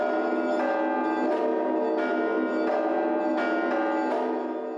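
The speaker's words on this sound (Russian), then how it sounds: "Колокольный перезвон на Руси называли малиновым" Russian church bells ring at a bell-ringers' festival in Veliky Novgorod, a rich, steady peal with repeated strikes every second or so over a continuous sustained ringing.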